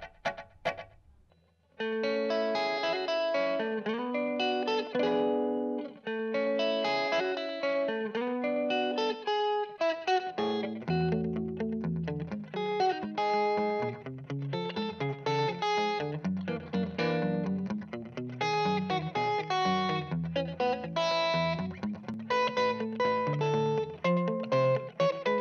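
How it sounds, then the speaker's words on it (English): Electric guitar on the neck pickup through a VOX VXII modelling amp set to a boutique clean tone with tape echo, playing warm, jazzy chords and melodic lines continuously and loudly, with echo repeats trailing each phrase. "let's go boutique clean with a bit of tape echo."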